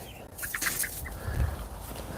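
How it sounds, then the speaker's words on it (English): Backyard chickens cluck softly while pecking at dandelion leaves in a garden, a few short close calls over light outdoor background noise. "See how the chickens like dandelion leaves."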